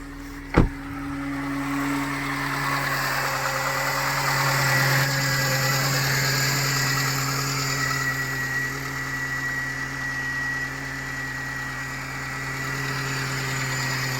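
A Mercedes C-Class W203 1.8 supercharged engine idles steadily with a low, even hum and faint vibration, close by, after a brief click at the start.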